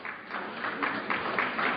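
Audience clapping in a lecture hall during a talk, a steady, moderately loud patter of many hands with a slight rhythmic pulse.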